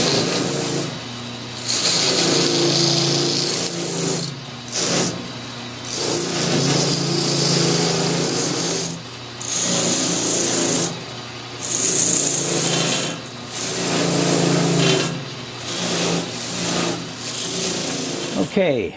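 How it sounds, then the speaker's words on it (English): A worn mop sander whirs against small wooden butterfly puzzle pieces, rounding their edges in repeated bursts of a few seconds each, separated by brief pauses, close and moderately loud. "run it over the mop sander, which is rather ratty looking, but I think it'll do the job"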